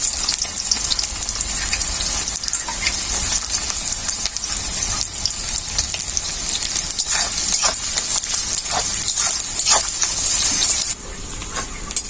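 Onions sizzle in hot mustard oil in a kadai with a steady, close, bright hiss throughout, laid down as the base for a chicken curry, with faint clinks and no talking.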